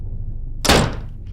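In a horror video game, a player tries a door that will not open. It gives a single dull, close thunk with a short rattle, then quiet.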